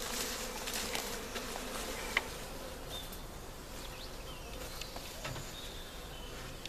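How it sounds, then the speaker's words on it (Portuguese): A honey bee swarm buzzes inside a hive box, a continuous dense hum with individual bees droning past close by and a single click, no talking. "o enxame já aqui está dentro"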